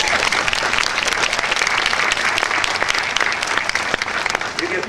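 Staff members of a laboratory animal medicine center clap at a ribbon cutting, dense sustained applause from a sizable group filling the whole stretch at close range.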